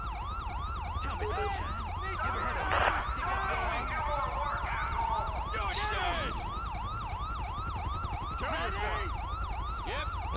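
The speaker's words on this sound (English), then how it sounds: "I'm gonna turn my sirens off." A loud, continuous wailing police siren from a sheriff unit in GTA V cycles rapidly up and down, close by, over a steady engine rumble, with a few other brief electronic tones mixed in.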